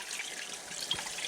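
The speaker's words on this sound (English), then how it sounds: "And I like to rinse out the cavity" Cold water running from a tap to rinse out the gutted body cavity of a stocked rainbow trout, a soft steady trickle and splash, fairly faint and close, with no talking.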